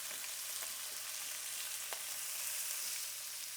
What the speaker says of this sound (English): There's that sizzle, nice hot pan you want to start with.